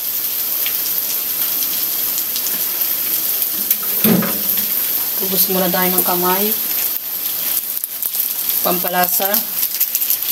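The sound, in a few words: rain falling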